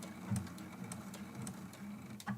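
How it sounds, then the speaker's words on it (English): A sewing machine back stitches along a quilt binding with a faint, quick mechanical whir and light ticking, quiet and close. "I'm going to back stitch."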